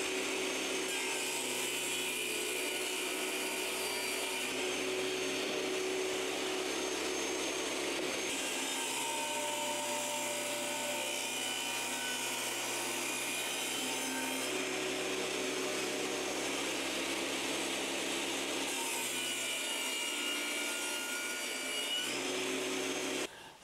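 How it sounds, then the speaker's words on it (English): A tilted saw blade, set to about 35 to 45 degrees, trims the angled edges off stacked wooden pieces for a garden obelisk, giving a steady whining roar that repeatedly swells and eases as each cut passes through. "I'm going to tilt the blade over, I think maybe to 35 degrees, maybe 45, and just cut"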